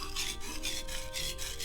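A kitchen knife is drawn back and forth across a whetstone in steady sharpening strokes, giving a close, continuous gritty rasp with a regular rhythm of about four passes.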